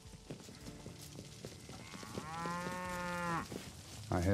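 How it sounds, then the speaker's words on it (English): Cattle moo in the King Arthur: Knight's Tale video game, a long drawn-out low moo rising in the middle amid faint hoof-like clops and ambient game sounds, fairly quiet overall. "I hear some cows."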